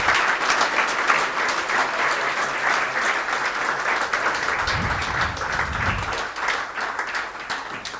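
An audience at a tech meetup applauds steadily for about eight seconds, a dense even wash of many hands clapping in a room with no talking.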